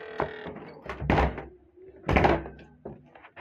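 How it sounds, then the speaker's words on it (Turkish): An indoor door pushed shut, giving a couple of soft thumps and a latch clatter across a few seconds, close and moderately quiet, with no one speaking. "kapıyı kapatacağım"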